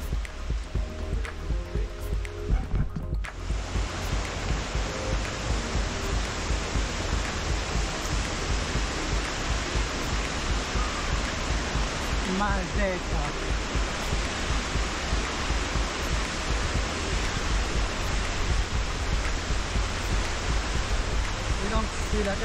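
A mountain waterfall in the Mercantour fed from high sources roars as a steady, dense rush of falling water that holds evenly throughout, with faint voices now and then beneath it.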